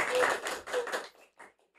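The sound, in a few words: applause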